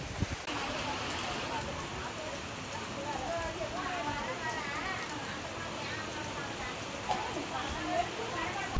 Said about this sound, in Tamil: அவ்வளோதாங்க, மழை தூருது.